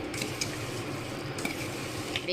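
Citron pickle being stirred with jaggery, a steady moist scraping and churning that runs unbroken at a close, moderate level, with a few slightly brighter scrapes along the way.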